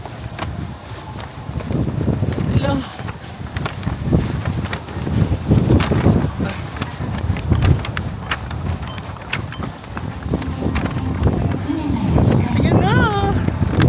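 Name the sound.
strong wind outdoors in Tokyo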